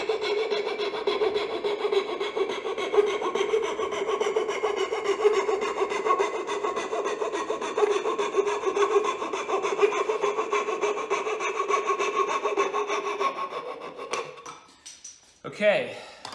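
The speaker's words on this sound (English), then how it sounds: "Now you can grab a fret saw, come in, and cut out the majority" Fret saw cutting waste out of a walnut dovetail joint, making close, steady rasping strokes in a fast even rhythm for about fourteen seconds before stopping, followed by brief handling knocks.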